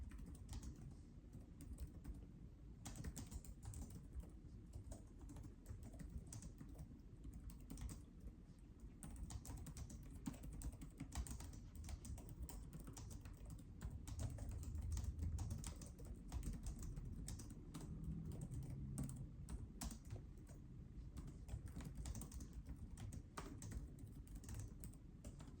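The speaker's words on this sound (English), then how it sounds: "Let me just write this follow-up email with Mike, just to make sure he gets this." Fingers type rapidly on a computer keyboard while writing an email, a close, quiet, continuous patter of key clicks with brief pauses, heard alone without talk.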